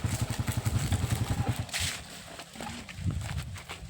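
Motorcycle engine idling nearby at a rural tubewell, a fast, even thudding putter that fades out, followed by quieter rustling and a few faint background sounds.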